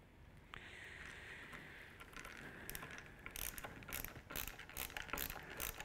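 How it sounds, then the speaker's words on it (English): Faint metallic clicking and ratcheting as a small screw in a tripod brake is threaded in and tightened. Irregular light ticks grow busier toward the end, close and quiet, with no voices. "Find the thread. The screw will drop slightly when it's found the thread."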